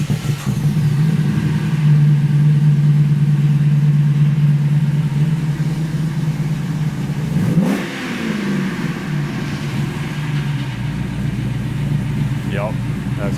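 A custom-built car with a new true dual exhaust idles with a deep, steady rumble close by. Its tone shifts briefly midway, and a voice talks in the background.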